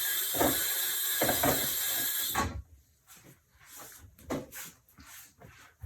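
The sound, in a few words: tap water running while washing hands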